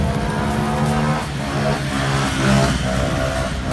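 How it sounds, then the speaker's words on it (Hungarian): Motorbikes rev and roar on a bridge at night in Thailand as local youths ride wheelies, engines droning loudly and continuously with rising and falling throttle under traffic noise. "a helyi vagánygyerekek kijöttek motorozni a hídra"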